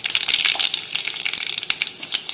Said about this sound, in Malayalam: ഇപ്പോൾ കടുക് പൊട്ടിക്കഴിഞ്ഞു.